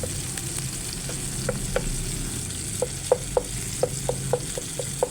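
Shrimp paste and tomatoes sizzle in a pan as a ginisang munggo dish with pork is sautéed, with a steady fry hiss broken by repeated sharp clicks of a utensil stirring and scraping.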